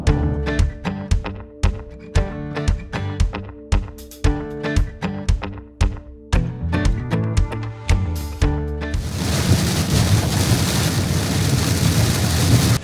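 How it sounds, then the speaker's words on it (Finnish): Heavy thunderstorm rain pours over an electric car driving toward northern Norway: a string of rhythmic thumps and clunks gives way to a dense, loud, steady roar of water hammering the vehicle. "tällainen ukkosmyräkkä ja vettä tulee kuin aisa, ettei meinaa pyyhkiä"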